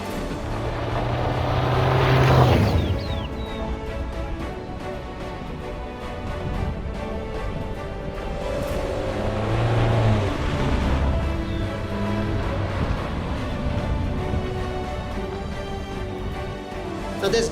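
A Hyundai Alcazar diesel SUV drives over sand and mud near Delhi and Gurgaon, its steady engine drone and tyre rumble continuous throughout, swelling louder in two surges as it powers through the rough ground.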